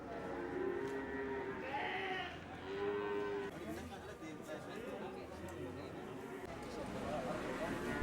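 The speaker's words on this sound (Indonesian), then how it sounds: "Berbagai jenis sapi maupun kambing ada di sini." Cattle moo and goats bleat at a busy livestock market in Sleman near Yogyakarta, several calls rising over a steady crowd murmur, with people talking throughout.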